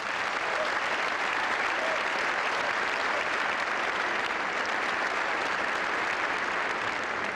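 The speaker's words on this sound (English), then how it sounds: "How about we give her a nice round of applause?" Sustained applause from a large audience at the Naval Academy, a dense, even wash of clapping hands filling the whole stretch at steady loudness with no speech over it.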